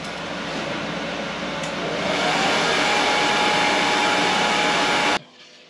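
A hair dryer blows steadily on a painted 3D-printed Cubone skull, a constant broadband whoosh that grows louder after a couple of seconds as it moves closer, then cuts off abruptly near the end.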